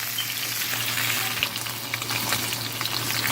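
Raw meat, onions and tomato fry for dibi in a steady, dense sizzle with light stirring and a low hum underneath.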